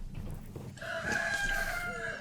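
A recorded rooster crow, triggered repeatedly by a button, rings out as a drawn-out cock-a-doodle-doo over a murmur of background room noise, moderately loud.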